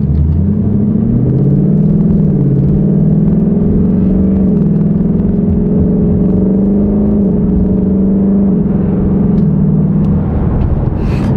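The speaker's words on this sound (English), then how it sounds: "These downshifts are pretty powerful, actually." A Ford Mustang GT V8 drives on a street, its loud, deep engine rumble rising and falling through gear changes as it downshifts, heard continuously from inside the car.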